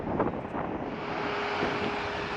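Wind rushes and rumbles steadily against the microphone, a continuous low blustery roar with no voices.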